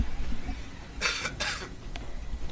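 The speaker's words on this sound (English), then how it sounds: "Just need to have a quick cough and splutter." Two quick, harsh coughs close together, followed by a smaller catch of breath, with a low steady rumble underneath.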